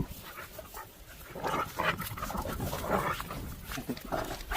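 Outdoors on a mountain outing, a dog gives short, scattered barks and whimpers at moderate distance over rustling and breezy background noise.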